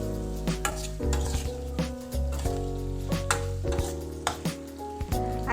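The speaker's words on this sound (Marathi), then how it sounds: "आता आपण बटाटे परतून घेतलेला आहे" Potato slices stir-fry in a pan for a beans aloo masala fry, with a constant sizzle and repeated scraping stirs of a spoon, close and fairly loud over a tonal background.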